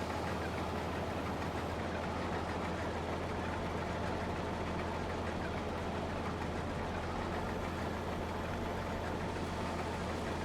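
The 390T tractor's engine runs in Farming Simulator 22, a steady low droning hum with a constant mechanical rumble holding at an even moderate level for the whole stretch, with no talk.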